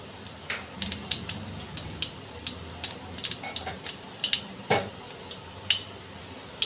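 Kalonji (nigella seeds) crackle in a little hot mustard oil as a tempering for a steamed hilsa dish. Scattered sharp pops and sizzles come at an uneven rhythm, close and moderately loud, with no talking.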